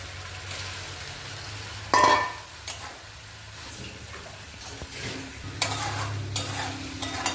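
Fried pointed gourd stirred in a pan with turmeric, salt and sugar, giving steady oily sizzling and scraping stir strokes, with a louder clatter as the pieces go in near the start; no talking.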